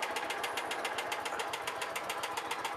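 A John Deere Gator utility vehicle engine runs at idle with a steady, rapid, slightly knocking putter, close by and continuous.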